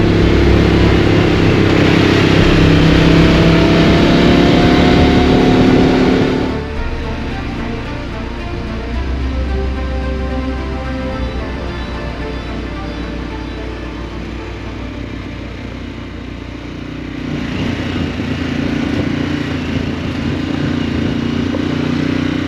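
Harley-Davidson Pan America adventure motorcycles ride a southern Utah trail, engines loud and close with rumbling throttle changes, a steadier softer stretch in the middle, and wind and clatter over rough ground.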